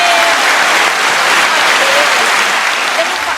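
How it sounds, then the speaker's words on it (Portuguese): A room full of people breaks into steady, dense applause during a live podcast session, the clapping loud and close, sustained evenly for a few seconds with no speech over it. "Você foi aprovado na salva de palmas."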